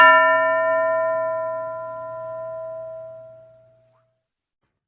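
A single classroom bell is struck once, its clear ringing tone with bright overtones sustaining and slowly fading over about four seconds, alone with no talk.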